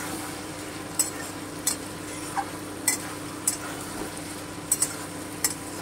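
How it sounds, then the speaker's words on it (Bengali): A spatula stirs mourola fish curry in an iron kadai over steady low sizzling, with several distinct metallic scrapes and clinks spaced a second or so apart, close by and without talk. "এই যে আমি আর একটু নেড়ে নিচ্ছি।"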